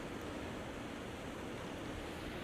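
Winter waterfall at Elbow Falls, with water fed by mountain springs: a steady, dense broadband rush with no breaks, close and even throughout.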